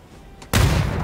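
A single gunshot sounds in the PUBG video game, an abrupt, loud crack that breaks a quiet lull and leaves a rumbling tail.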